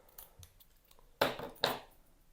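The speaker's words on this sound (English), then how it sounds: "I'm going to cut a bit off there." Two crisp, close scissor snips cut through acid-free 12x12 cardstock in a quiet room, preceded by a few faint paper rustles.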